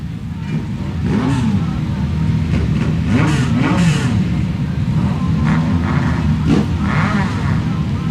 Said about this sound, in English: Drivers are being instructed to fire their engines.